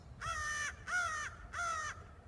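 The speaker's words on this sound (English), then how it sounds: "here's one of my crows in the morning calling for me to feed it" A crow on a rooftop in the morning gives three loud, harsh caws in an even rhythm, close and clear against a faint background.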